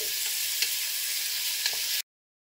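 Onions and grated coconut fry in a pan for an Indian turkey breast curry over medium heat, a loud continuous sizzle with a couple of faint stirring clicks, cut off abruptly after two seconds.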